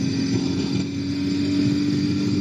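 A 2016 Ducati XDiavel S engine pulls hard on a highway toward peak power, a loud, sustained droning roar with a steady pitch under rushing wind, close to the rider and without speech.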